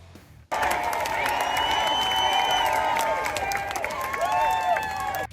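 A crowd at a political rally in Miami cheers, a dense, continuous wash of voices and shouts that kicks in suddenly and holds loud throughout, with many overlapping whoops.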